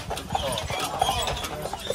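Carriage horses' hooves clip-clop steadily on a wooded road on Mackinac Island, a close, continuous rhythmic clatter with someone talking over it.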